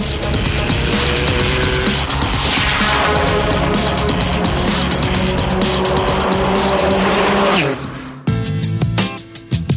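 A Tech Art tuned Porsche runs at very high speed on the Nardo test track, a loud sustained engine roar with rising pitch, ending in a sharp shift and renewed acceleration.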